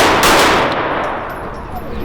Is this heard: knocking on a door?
no